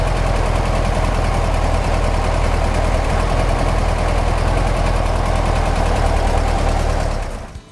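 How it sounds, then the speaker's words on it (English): A Speedster car engine with newly installed spark plug wires idles loudly and steadily, a constant low rumble that holds for about seven seconds before cutting off. "I think the engine's running pretty well at this point."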